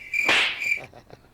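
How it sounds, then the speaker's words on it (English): A cricket chirp sound effect plays on a live show: one short, shrill, close trill followed by a few fainter fading pulses, with no talking over it. "Crickets."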